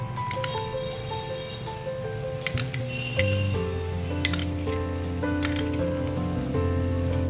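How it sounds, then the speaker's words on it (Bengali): A spoon clinks and scrapes against a pot or dish while cooked rice is mixed with edible orange food colouring for Kashmiri pulao, producing close, irregular metallic taps over a steady tonal background. "ভাতের সাথে কালার খুব ভালোভাবে মিশিয়ে নেব"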